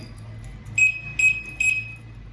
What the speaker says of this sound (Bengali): 2বার বিপ করে আওয়াজ হয়েছে